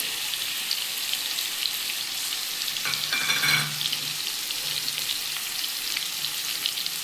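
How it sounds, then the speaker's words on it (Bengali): Ridge gourd frying in a pan with a paste of cumin, chili and turmeric mixed in water, a steady close sizzle throughout that swells briefly in the middle as the wet spice paste hits the hot oil. "আমার ঝিঙেটা একটু ভাজা হয়ে গেছে আমি এবার এতে মশলাগুলো দেবো"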